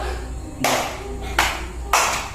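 Three sharp hand claps spaced under a second apart in a classroom clapping game, loud and close, with a faint background hum between them.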